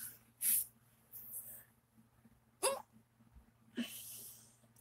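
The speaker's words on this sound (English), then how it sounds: "I hate having hiccups and I can't," A person hiccups three times, sharp abrupt catches spaced a couple of seconds apart, close up with soft breathing between them.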